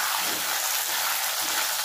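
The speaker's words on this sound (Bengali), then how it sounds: "একটু হলুদ দিলাম, দিয়ে এগুলো একটু ভেজে নেব" Potatoes with turmeric frying in a pan give a steady, close, even hiss of sizzling oil that runs unbroken for the whole stretch, with no voices over it.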